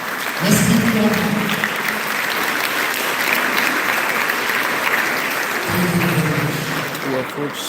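Sustained audience applause fills a town hall at a drug-prevention program launch, steady and dense throughout, with a brief voice over it near the start and again toward the end.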